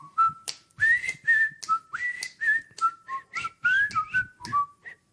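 A person whistles the Andy Griffith Show theme, a bright, steady melody of sustained and sliding notes, close and clear with no talking over it.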